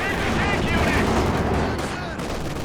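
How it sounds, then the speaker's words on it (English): Artillery barrage with delayed fuses in the Company of Heroes 2 real-time strategy game, a loud, dense run of overlapping blasts and gunfire cracks that stays heavy for the whole stretch, with a voice talking in the background. "Delayed fuse barrage out the back."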